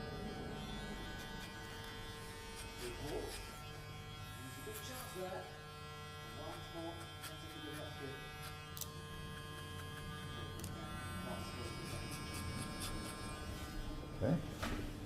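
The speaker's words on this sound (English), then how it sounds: "The clipper I'm using is a caliber. It's a magnetic clipper, and it really is a good clipper." A Caliber magnetic electric hair clipper buzzes with a steady close mains-type hum while cutting a young man's hair at a barbershop, with faint snipping textures and background noise throughout.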